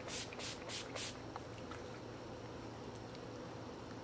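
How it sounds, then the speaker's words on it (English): Urban Decay Chill Makeup Setting Spray misted onto a face in a few quick hissing bursts close by, then a quiet stretch. "I'm going to spray it with the Urban Decay Chill Makeup Setting Spray."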